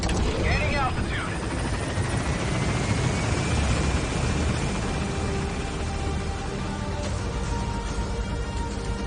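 A helicopter climbing in the Metal Gear Solid 5 video game, its steady rotor and engine roar loud and continuous, with a slowly rising whine over the dense rumble.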